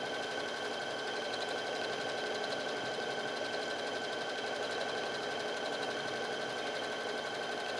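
A home sewing machine running decorative stitches on a pillow cover; a constant, even motor drone with fine rapid needle ticking, steady and fairly quiet, no talking.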